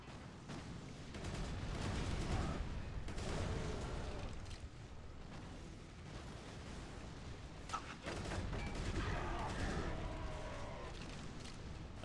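Burst-fire gun shooting rounds in the video game Resistance 2, a camera-and-sniper weapon, heard as loud, dense gunfire and explosive blasts over a continuous busy game soundscape.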